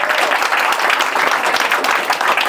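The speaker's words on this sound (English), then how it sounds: "Round of applause for them as well." Comedy club audience in Berlin applauding, a lively, close round of many hands clapping that holds steady throughout.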